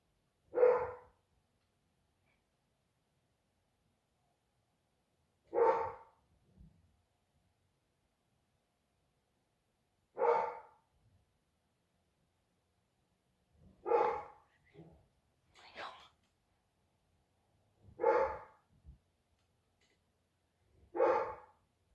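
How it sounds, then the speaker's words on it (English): Single dog barks ring out every few seconds, spaced apart with quiet between, with a softer yip or two mixed in, fairly close. "Oh my god, stop barking."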